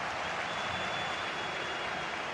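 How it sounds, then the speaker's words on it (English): Steady, dense roar of a stadium crowd cheering in a football video game, a continuous wash of noise with no breaks and no distinct voices rising above it. "the crowd are driving their team on here"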